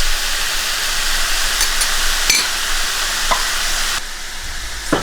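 Butter sizzles and hisses steadily in a hot pan for keto stir-fried cauliflower rice with shrimp, with a brief clink partway through and the frying softening near the end.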